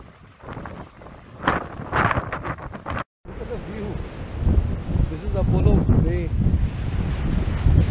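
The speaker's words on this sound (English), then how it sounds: "Imagine what kind of sea waves are there." Surf rolls onto the coast along the Great Ocean Road near Melbourne, Australia, a steady wash of breaking waves mixed with strong wind buffeting the microphone, with people talking over it in the first few seconds.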